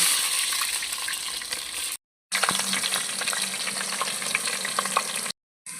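Onions and whole spices fry in hot oil for a banana-flower biryani, a close, continuous crackling sizzle with light stirring, broken by two short silent gaps.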